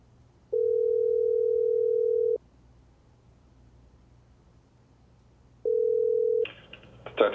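Telephone dial tone heard over a speakerphone: two steady, moderately loud tone bursts separated by a quiet gap, the second cut short by rustling and clatter.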